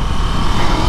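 A 2023 Ducati Scrambler Icon with a parallel-twin engine cruising on the motorway, its engine drone loud and steady with wind rush for a brief second.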